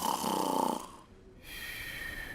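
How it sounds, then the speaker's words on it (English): Someone snores rather loudly in bed, a long rasping inhale, then a brief pause before another drawn-out snore, close and alone. "Hedge demonstrated his superpower by putting his head on his pillow and starting to snore"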